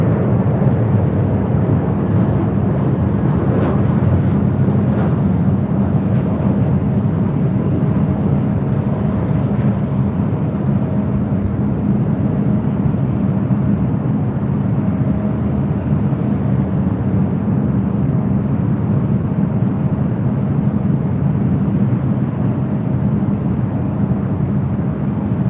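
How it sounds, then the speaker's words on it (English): An American Airlines A319 airliner arrives at LAX on runway 24 left, its steady engine roar holding as a loud, continuous rumble with a broad, unchanging wash of noise and no voices. "American A319 coming from Vancouver,"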